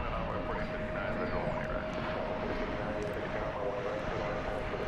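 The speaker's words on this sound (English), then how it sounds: "Here comes a flight in from Tallahassee, Florida. It's another Embraer 175, flight 3301, American Eagle." Embraer 175 regional airliner on an American Eagle flight arriving at DFW Airport, heard as a steady, broad engine roar with a faint whine, continuous and moderately distant throughout.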